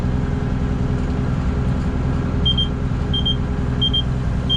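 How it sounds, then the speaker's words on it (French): Repeated short high beeps from a tractor autoguidance system at the end of a field row, about three evenly spaced chirps over a steady loud engine drone. "se met à biper parce qu'en fait t'arrives au bout de ton champ"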